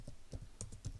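Code being typed on a computer keyboard: a quiet, close run of about six light key clicks spaced unevenly over roughly a second, with no talking.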